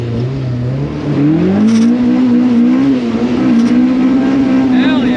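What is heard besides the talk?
car engine revving, Honda VTEC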